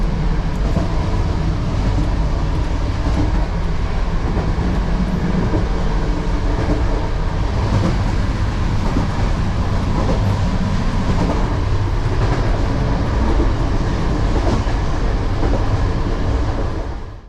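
A Romanian long-distance passenger train runs steadily along the rails, a loud, continuous rumble with rhythmic wheel clatter heard from inside the carriage, with no talking.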